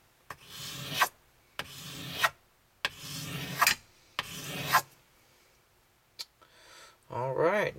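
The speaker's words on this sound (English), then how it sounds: "that's the polishing of a slider" Hand polishing of a paintball marker slider frame: four strong rubbing strokes in a steady rhythm, close up, followed by a few light clicks and a brief spoken voice at the end.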